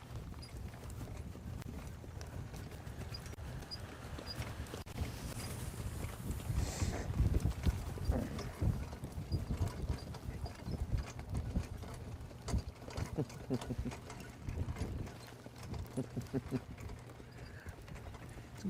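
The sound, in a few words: horses' hooves pacing during harness racing training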